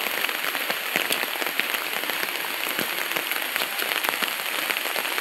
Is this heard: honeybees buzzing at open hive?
no